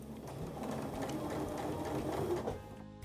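A sewing machine fitted with an HP foot and plate runs steadily while stitching a curved fabric piece, its rapid even whir continuing alone and close up for about three seconds before stopping.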